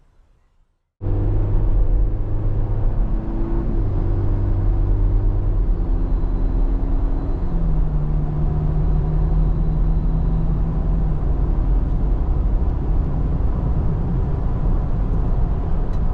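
A 2025 Toyota Tacoma SR XtraCab 4x2 pickup cruises down the road: a steady cabin drone of engine hum and road rumble starts abruptly after a moment of quiet and holds constant, with no one talking.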